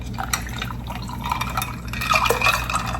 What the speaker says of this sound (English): So we have our glass and we can pour up our beautiful,